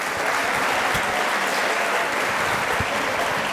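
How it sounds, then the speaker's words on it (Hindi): A student audience at a televised Pakistani talk show claps for the guests, a dense, steady wash of applause from a crowd filling the room. "मेहमानों के लिए एक मरतबा फिर तालियां आप बजाएं"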